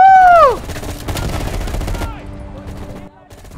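Gunfire in the video game Call of Duty Black Ops Cold War: a quick burst of close shots amid game effects and a falling whistle-like tone, with a short rattle of fire later on.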